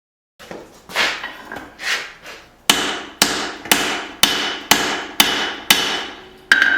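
Hammer blows forging a hatchet head at the anvil, a steady series of about a dozen sharp metallic strikes, close and loud, each ringing briefly before the next, with no talk.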